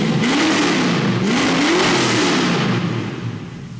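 Ford Mustang with a 289 V8, fitted with an X pipe and megaphone exhaust, revs hard in several rising and falling sweeps at close range, loud and throaty, then eases off toward the end.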